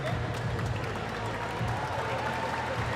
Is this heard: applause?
yes